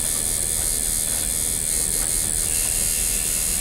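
Ground Zero Bullwhip Infinity tattoo machine running in a steady, close electric buzz with a bright high whine, continuous and unbroken throughout, with no voices.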